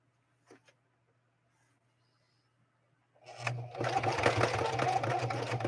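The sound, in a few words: Singer 4411 sewing machine zigzag stitching through cowhide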